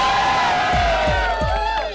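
A college audience at a Doon Valley College talk show in Karnal roars with loud cheering and whoops. A swelling crowd noise runs continuously, with sharp rising shouts punctuating it.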